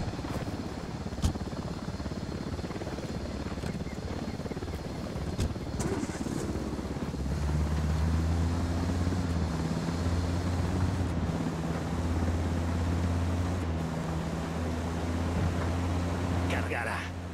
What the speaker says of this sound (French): Il y a un hélico de l'Unidad.